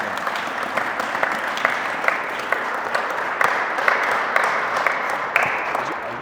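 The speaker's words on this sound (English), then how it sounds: "give him a round of applause" An audience gives a guest a round of applause at a talk with a Utah real estate expert, a steady dense wash of clapping with sharper individual claps standing out throughout.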